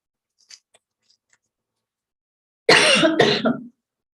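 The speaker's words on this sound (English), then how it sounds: "excuse me, I'll just take a coughlette." A speaker breaks off a spiritual talk on harmony with two close, loud coughs in quick succession, alone after a few faint mouth clicks.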